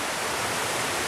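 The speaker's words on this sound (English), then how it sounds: "here's one of the many waterfalls down here on the creek" A small waterfall on a creek near Lake Lure, North Carolina, pours in a constant, soft hiss of falling water, with no voices.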